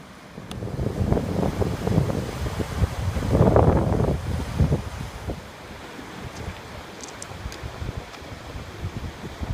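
Angel Falls waterfall at Big South Fork rushes as a broad continuous roar mixed with wind buffeting the microphone, swelling briefly then settling.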